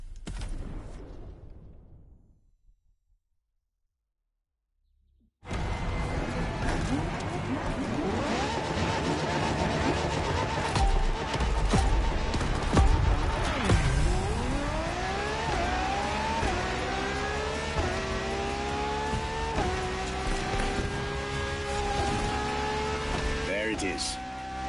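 A Ferrari supercar engine from Maranello revs loudly and climbs through rising gears after a quiet opening, the sweeping pitch rising and falling repeatedly, with a voice talking over it.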